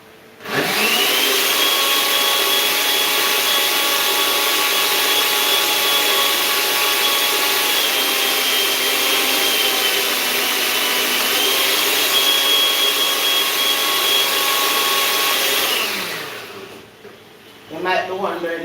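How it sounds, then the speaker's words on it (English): A kitchen blender whirs steadily for about fifteen seconds, mixing juice with powdered Lasco milk for a pumpkin punch, a loud, even motor drone with a whining tone that spins down and stops near the end. "I'm using some of the juice to blend the Lasco."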